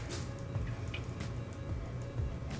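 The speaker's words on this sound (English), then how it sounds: "So I'm just gonna pour some chocolate milk into here" Chocolate milk poured into a mason jar packed with ice gives a soft, steady liquid trickle with faint drips and clinks, close and fairly quiet, with no talking.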